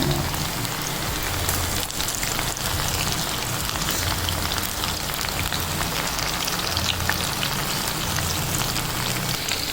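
Vegetable pakoda fry in hot oil with a dense, continuous crackling sizzle that stays loud and even throughout, no talking.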